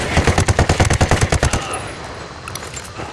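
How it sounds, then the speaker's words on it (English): Rapid automatic gunfire in the video game Ghost Recon Wildlands, a loud close burst of evenly spaced shots lasting about a second and a half, then trailing off into faint distant pops and ambience. "Opening fire."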